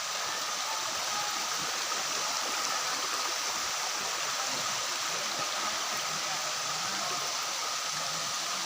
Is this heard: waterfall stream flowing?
yes